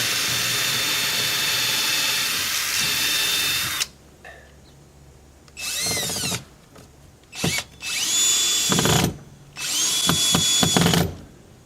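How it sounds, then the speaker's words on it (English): A power drill whines at high speed in several bursts while drilling screw holes, one long run followed by shorter spurts separated by quiet pauses. "First one, I'm going to just drill the hole for the screws."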